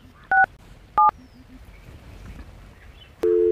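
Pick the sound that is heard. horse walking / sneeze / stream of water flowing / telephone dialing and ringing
telephone dialing and ringing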